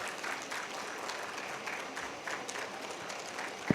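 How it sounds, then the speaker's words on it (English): Audience at a medical conference ceremony applauds team members of a patient safety cohort, a moderate, steady patter of many hands clapping, somewhat distant, ending with a single sharper clap. "A round of applause for all the team members here for the fellow cohort 3"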